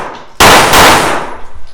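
A single loud gunshot strikes a steel target with a sharp metallic clang, close and sudden, then the ring fades away over about a second.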